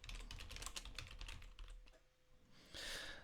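Quick clattering keystrokes on a computer keyboard while typing a search, a brisk run of close taps that pauses briefly, then a short soft hiss.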